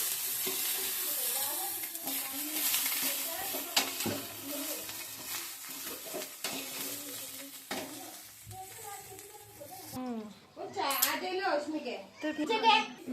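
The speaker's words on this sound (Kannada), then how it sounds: "ಎಣ್ಣೆ ಹಾಕಿದ ಮೇಲೆ ನೋಡ್ರಿ ಮೆಣಸಿನ್ಕಾಯಿ ಯಾವ ಥರ ಚಟಪಟ ಮಾಡ್ತಾರೆ" Green chilies fry in hot oil with a steady, fairly quiet sizzle and crackle that runs throughout, while children chatter and play close by and people talk over it.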